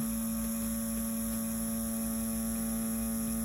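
An InkClaw Challenger tattoo machine runs at 7.5 volts with a steady, even electric hum and buzz, constant and unchanging throughout, with no voices.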